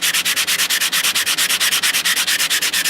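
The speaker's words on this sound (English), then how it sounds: "you just put your ring down and you just sand that down real" Sandpaper or a sanding sponge scrubbed over a ring made from a coin, a loud, close, fast rhythmic rasp of even back-and-forth strokes with no speech.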